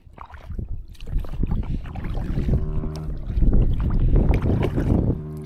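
Close-up kayak paddling on a fishing trip, with water churning and splashing, steady strokes building in force, with wind buffeting the microphone.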